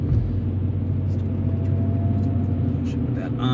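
Car driving through traffic, a steady low engine and road rumble filling the whole stretch, with a faint passing vehicle swelling near the end.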